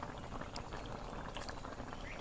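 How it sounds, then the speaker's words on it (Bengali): A pot of pangas fish curry with sponge gourd bubbles at a rolling boil, a dense close simmering gurgle running continuously. "তরকারির বলক উঠছে"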